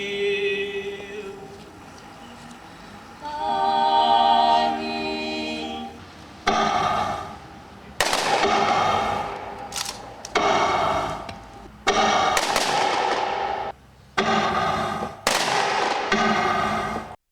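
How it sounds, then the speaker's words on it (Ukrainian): A brass band plays at a military funeral in Zhytomyr, then a series of sharp, loud rifle volley shots ring out in spaced bursts, several rounds fired in succession outdoors. "Під сурми оркестру та чергу пострілів побратимів."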